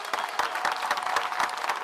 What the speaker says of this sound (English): Clap it up, baby.